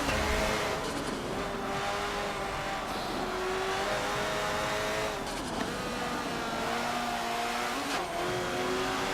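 A rear-wheel-drive race car in Forza Motorsport 7 roars steadily, its engine note rising and falling through shifts, with tires scrubbing as it slides sideways in a race against AI opponents.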